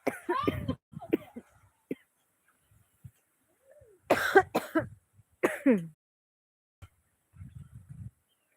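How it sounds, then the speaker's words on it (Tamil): A few short, harsh coughs and throat-clearing bursts close by, separated by pauses, with some faint quieter sounds in between. "வரட்டு இருமல் மாதிரி இருக்கு"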